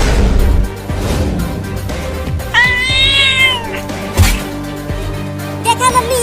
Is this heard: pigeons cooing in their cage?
no